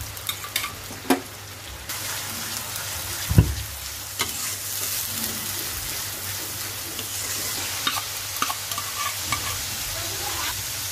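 Onion paste frying in a pan for a pangas fish bhuna, a close, continuous sizzle broken by stirring scrapes and a few sharp clunks of a utensil, with no voices.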